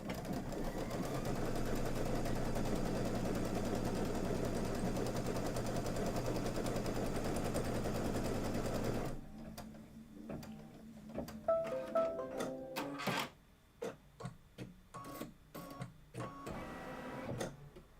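An embroidery machine stitches a Kimberbell Cuties table topper in a fast, even mechanical whir for about nine seconds, then stops, leaving scattered clicks and taps of handling.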